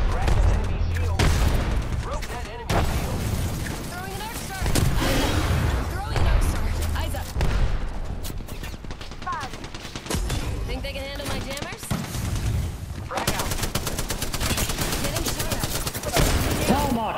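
Gunfire and explosive blasts in an Apex Legends Season 19 match on Storm Point: dense, loud volleys of rapid shots and heavy booms keep up almost without a break, with a voice talking over the battle.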